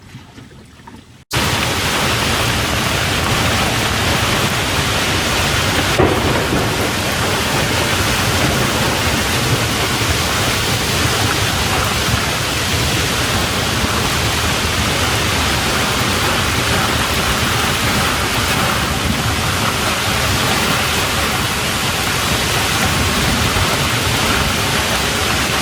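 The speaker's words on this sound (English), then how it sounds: "we're just going through a bit of a storm here" Heavy rain and wind roar continuously aboard a boat caught in a storm at sea, a dense, loud, unbroken wash of noise that begins abruptly after a moment of near quiet.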